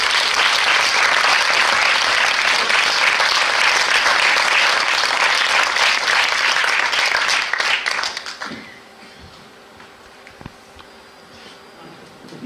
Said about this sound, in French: Je vous demande d'accueillir ce soir sur un tonnerre d'applaudissements Madame Nelly Katsky et Jacques Otmezguine.